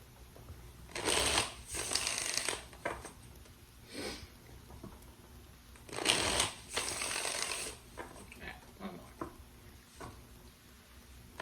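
Tarot cards are shuffled nearby in several quick bursts of riffling and snapping, with quieter shuffling and taps between them.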